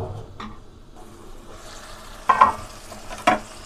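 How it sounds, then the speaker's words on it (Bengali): Raw jackfruit curry with shrimp cooking in a pan, a low sizzle with a couple of sharp spoon scrapes and knocks as it is stirred, brief and close. "আমি 5 থেকে 7 মিনিটের মতো কষাইছি, দেখতেই পারতেছেন।"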